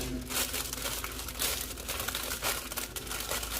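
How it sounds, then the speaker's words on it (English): Wax paper crinkling and rustling as pancakes are portioned two at a time and wrapped for freezing, a close, steady run of crisp crackles and folds with no talking. "I'll portion these out, 2 pancakes per, you know, wax paper wrap."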